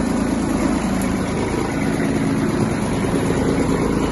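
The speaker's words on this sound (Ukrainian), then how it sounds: "Давайте заглушимо цей тракторець." A Kubota GB-180 mini tractor engine idles with a steady, dense rumble, loud and close, unchanging throughout with no other sounds.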